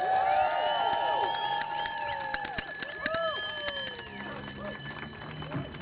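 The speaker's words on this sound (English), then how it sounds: "For those whose bells didn't work, if you hold it here, it doesn't." A crowd of Citi Bike bicycle bells rings at a bike share launch press conference, many overlapping bright dings and trills, loud at first, then thinning to scattered rings toward the end.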